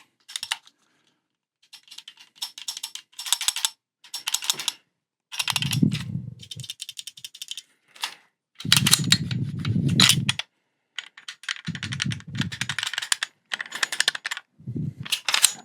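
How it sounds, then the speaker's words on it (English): A Sig Sauer P211 GTO pistol is handled up close, its loose parts producing bursts of sharp metallic clicks, rattles and clacks in irregular clusters separated by brief silences, with a few heavier thuds, and no speech. "The first impression that you get from this gun is, for some reason, everything just makes noise."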